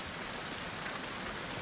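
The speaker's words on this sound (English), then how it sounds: "Yep, very nice rainy day." Constant rain pattering on surfaces in the video game The Last of Us Part II, an even, close hiss of falling drops with no voices or other sounds.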